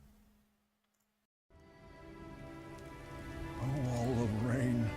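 Steady rain falls in The Witcher video game, a dense hiss that starts abruptly after a brief near-silence and continues with a voice talking over it.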